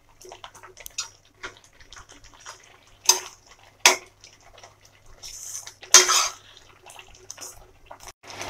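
Beetroot halwa being stirred in a pan, a utensil scraping and clinking against the metal in irregular strokes, with a few louder knocks standing out among softer scrapes, close by and without talk.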